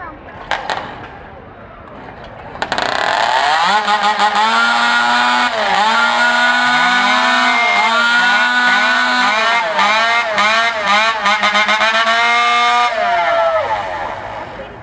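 Chainsaws warming up at a lumberjack show at the Kern County Fair, a loud sustained buzzing whine with repeated revving swells that starts abruptly and holds for about ten seconds before dropping off.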